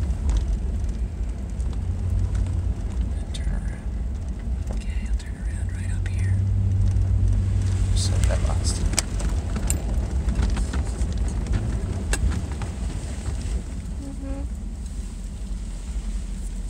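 A car on snow tires turning around on a snowy forest road, its engine a low steady rumble with faint crunching from the tires under quiet talk inside the car.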